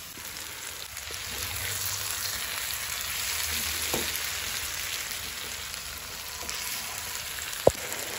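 Fried paneer cubes dropped into a sizzling spiced masala of cumin powder and garam masala for chilli paneer, giving a steady broadband frying hiss with a few soft stirring knocks and one sharp clink near the end.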